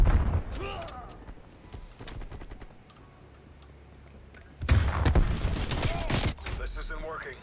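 Rifle fire in a Call of Duty: Cold War multiplayer match, heard as sharp bursts of shots that cluster early and return louder near the end, with a quieter lull between them.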